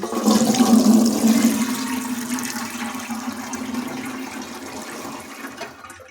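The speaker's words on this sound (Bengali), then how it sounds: "এরকম একটা ফুটো ফুটো থালা নিয়েছি তার মধ্যে মটরশুঁটির জলটা ছেঁকে নিচ্ছি" Boiled green pea water is poured through a perforated plate, making a loud, close splashing gush. It slowly tapers to a thin trickle, with no one talking.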